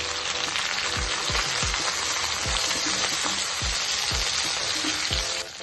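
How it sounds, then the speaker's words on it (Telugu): Onions frying in a pan with coriander leaves added give a loud, steady sizzle and crackle, with regular soft knocks of a spoon against the pan, heard up close with no talk. "ఎర్రగా వేయించేసుకోవాలి. ఉల్లిపాయలు వేగాయి, కొద్దిగా కొత్తిమీర వేసేసుకోవాలి."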